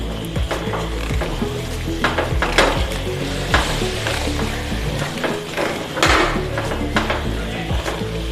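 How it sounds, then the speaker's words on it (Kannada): Jackfruit halwa with roasted cashews stirred in a hot pan gives steady sizzling with repeated scraping, clacking strokes of the spoon against the pan, close and continuous with no talking. "ಇಲ್ಲಿ ನಾನು ಹುರಿದಿಟ್ಟ ಗೋಡಂಬಿಯನ್ನು ಇದಕ್ಕೆ ಹಾಕ್ತಾ ಇದ್ದೇನೆ. ಚೆನ್ನಾಗಿ ಮಿಕ್ಸ್ ಮಾಡಿಕೊಳ್ಳಿ."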